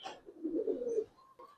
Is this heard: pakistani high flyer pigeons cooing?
yes